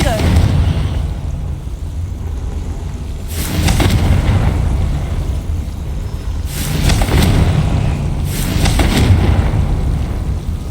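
Explosions from the Confringo spell in Hogwarts Legacy come as a series of loud, booming blasts, with several bursts separated by a few seconds over a dense, rumbling game background.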